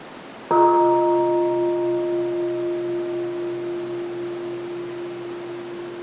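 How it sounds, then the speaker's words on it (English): A single meditation bell is struck once at a mindfulness Dharma talk, giving a clear ringing tone that sustains and slowly fades over several seconds without any voices. "Let's enjoy the sound of the bell."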